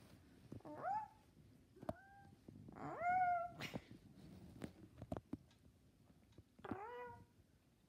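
Domestic cat gives several close, clear meows in short bursts separated by pauses, some drawn out and wavering, against a quiet indoor background with scattered small knocks.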